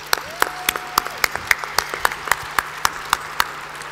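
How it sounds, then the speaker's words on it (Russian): Audience at a business forum applauding in slow, regular unison, about four claps per second, close and evenly paced, over a low steady hum. "Давайте похлопаем, как вам понравилось."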